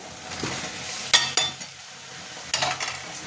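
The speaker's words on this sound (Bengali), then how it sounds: "এবার পটল আলু দিয়ে নাড়বো" Pointed gourd and potatoes are stirred into a ginger-garlic spice paste in a hot pan for a prawn curry. A constant close frying hiss is broken by a few loud clattering scrapes of a metal spoon.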